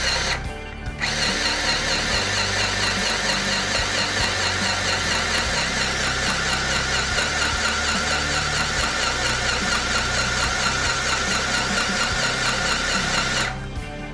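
Mini portable sewing machine running under foot pedal control, a fast, even mechanical rattle of stitching held steady for about twelve seconds, starting and stopping abruptly.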